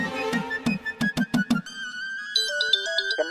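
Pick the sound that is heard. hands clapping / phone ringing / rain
phone ringing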